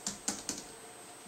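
Keys tap on a compact CME XKey MIDI keyboard, three crisp clicks in quick succession, close and fairly quiet with no voices.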